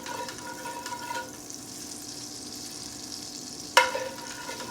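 Butter sizzling in a pan as its milk solids brown, a steady low hiss close by with one sudden sharper burst of crackle near the end.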